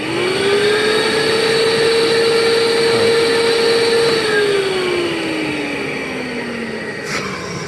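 A vacuum cleaner runs with its filter removed during a suction test, a steady loud motor whine that holds for several seconds, then slowly drops in pitch as airflow changes, continuous and close with no talk.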